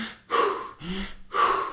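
A person's voice imitates Wim Hof breathing: three forceful, close breaths, each a sharp rushing inhale or exhale with brief pauses between them.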